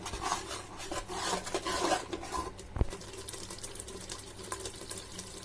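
Spices being stirred in a cooking pot, rough scraping and rubbing strokes up close with one sharp knock partway through, no speech.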